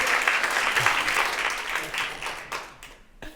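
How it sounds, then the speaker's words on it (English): Audience applause after a talk on reading and dyslexia, a dense sustained clapping from a crowd that continues throughout and thins slightly toward the end. "Please give David a round of applause."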